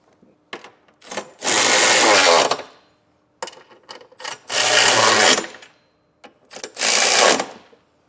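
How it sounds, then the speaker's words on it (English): Trailer hitch bolts on a 2025 Nissan Pathfinder tightened with a 19mm socket on a power ratchet tool, three loud whirring bursts of about a second each separated by short clicks and quiet pauses, close up. "to get this tightened down, we're going to be using a 19mm socket"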